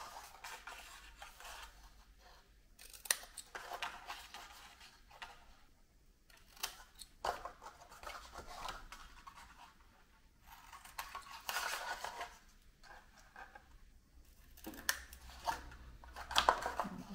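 Scissors snip the corners of a piece of card, giving faint, quiet clicks and short cuts spread out with soft handling noises between them.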